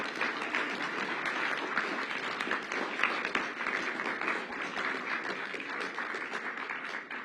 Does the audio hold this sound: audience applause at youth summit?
yes